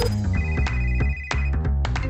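A phone ringtone plays a loud, bright electronic melody of quick repeated tones, with a brief dip in the middle, and no talking over it.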